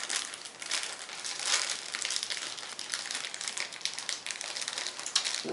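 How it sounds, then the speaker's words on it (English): A plastic bag from a figure's packaging is torn open, giving continuous bright crinkling and crackling close by throughout, with no talk. "And this bag, I guess I'll have to rip this one open."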